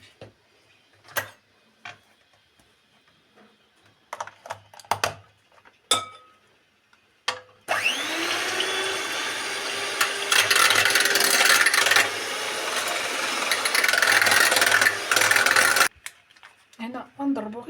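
Electric mixer beating cake batter, a loud, steady whir running for about eight seconds after scattered clinks and taps of utensils and bowls, then stopping, with more light clinks following.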